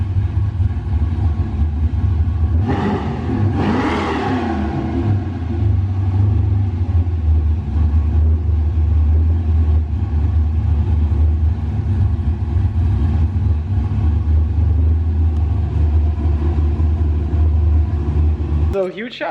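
LS-Z car engine running up close with a deep, steady rumble, a brief rev swelling near the start, then settling into a sustained idle-like drone.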